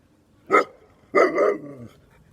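A Kangal shepherd dog gives alert barks at a stranger: one short bark, then a longer double bark, close and clear against a quiet outdoor background.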